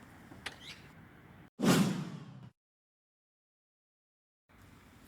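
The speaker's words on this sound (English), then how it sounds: "push the red button to lower roof panels and close the trunk" A Mercedes SL R230 lowers its roof panels and closes its trunk with one short, fairly loud mechanical swoosh ending in a soft thud, followed by near silence and faint room noise.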